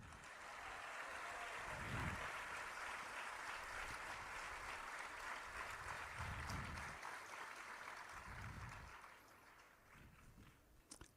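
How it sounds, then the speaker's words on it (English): Crowd clapping during a temple gathering on a Kartik yatra in Jagannath Puri, a dense continuous patter of many hands, faint and distant, fading toward the end. "You can clap a little bit louder also."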